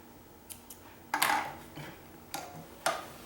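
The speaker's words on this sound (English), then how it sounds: "Let's cut these threads" Scissors snip loose threads after a pillow has been stitched. Several short, crisp clicks and snips come close by at irregular intervals, with two sharper cuts standing out in a quiet room.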